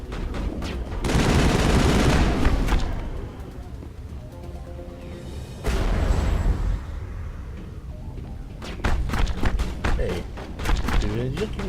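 Gunfire in the video game Mass Effect: a loud, dense burst of rapid shots, then quieter stretches and renewed volleys of sharp cracks near the end, mixed with game dialogue.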